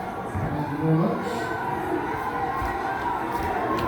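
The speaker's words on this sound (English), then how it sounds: "So this is the crowd on the east side of the Capitol building." A large crowd gathered outside the east side of the Capitol building, a dense murmur of many voices with scattered shouts and cheers, continuous and moderately loud.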